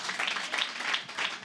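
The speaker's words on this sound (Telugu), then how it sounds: "ఇది అవ్వబోతుందని నమ్మిన వాళ్ళు చప్పట్లు కొట్టారు" A church congregation claps together during a Sunday sermon, a dense, steady patter of many hands in a large hall, swelling in repeated bursts at moderate volume.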